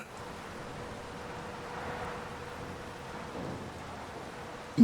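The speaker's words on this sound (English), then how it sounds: "while we're waiting for the rain to stop" Rain falls in the Farming Simulator 25 video game, a soft, even hiss of drops on surfaces with a faint low rumble beneath, steady throughout and fairly quiet.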